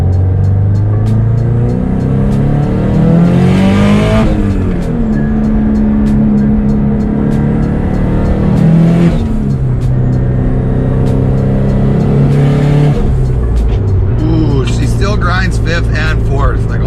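A 500HP Subaru STI with a rotated turbo and Tial Q blow-off valve accelerates hard through several gears, the loud engine note rising and dropping at each shift, heard from inside the car.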